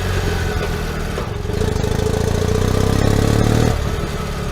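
A BMW R75 motorcycle with a 745cc air-cooled two-cylinder engine runs at a steady idle, a loud, continuous low throbbing that swells slightly in the middle and then settles, with no voices.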